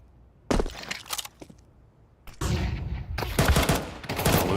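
Bursts of Galil rifle gunfire in a professional Counter-Strike match ring out loud and close, with quick tapped shots and a longer stretch of rapid fire, alongside cracking impacts.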